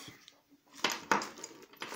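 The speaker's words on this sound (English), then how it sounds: "We could start with cutting the keys off" Keys rattle and clink as they are worked off a key chain, a few bright metallic jangles in quick bursts, close and moderately loud against a quiet background.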